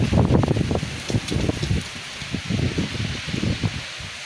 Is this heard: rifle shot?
no